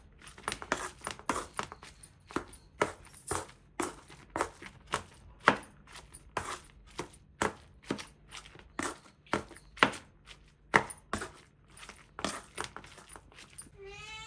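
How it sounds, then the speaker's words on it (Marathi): Cooked jackfruit pieces are crushed with a grinding stone in a steady series of sharp knocks and crunches, repeating roughly once or twice a second. The strikes are close and fairly quiet, with no talk. "फणसाचे गरे शिजवून घेतलेले आहेत आणि आता मी त्याला पूर्णपणे बारीक करतेय वरवंट्याने"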